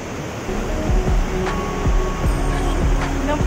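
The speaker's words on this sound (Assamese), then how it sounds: "একদম পুৰা এইফালে পানীৰ কলকলনে চাগে শুনি পাইছে" Water from a stream at Panimur Waterfall in Dima Hasao babbles and rushes in a continuous broadband wash, with a few low thuds beneath, fairly loud and close.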